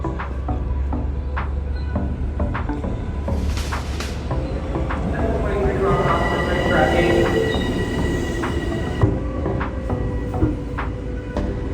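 Steady rumble of a moving train bound for Suffolk County, with rhythmic rail noise and occasional squeals, a continuous low drone throughout, with faint voices now and then.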